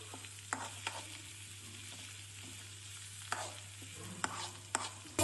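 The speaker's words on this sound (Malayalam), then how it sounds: "ഇളക്കാം, നല്ലോണം ഇളക്കണം കേട്ടോ" Dahi tadka being stirred and fried in a pan, a faint steady sizzle broken by several sharp scraping spatula strokes, heard up close without speech.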